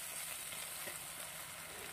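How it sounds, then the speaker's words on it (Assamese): Cut turai (ridge gourd) and potato frying in a pan, a continuous, even hiss of sizzling oil heard close up and fairly quiet, with no voices. "এইখিনি এতিয়া অকণমান ভাজি লওঁ"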